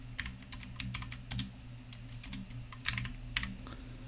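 Typing on a computer keyboard while writing VBA code, with quick clusters of light key clicks and short pauses between them, close and fairly quiet, with a faint steady hum underneath.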